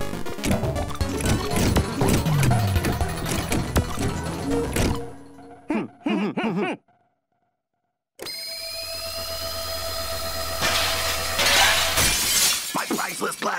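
A glass harmonica smashes in a cartoon garage, a loud crash of shattering glass with scattered tinkling debris, then a brief silence before a ringing, sustained aftermath with faint voices.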